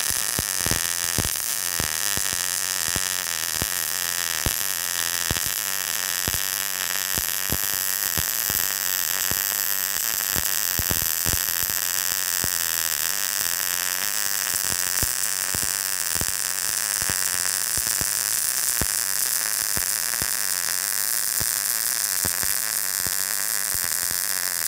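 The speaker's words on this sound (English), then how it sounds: "All right, let's try some MIG welding." MIG welding with a Simder SD-4050 Pro welder at a synergic 15.5-volt setting: a steady, harsh buzzing crackle that runs continuously for about 25 seconds with sharp irregular pops and no talking.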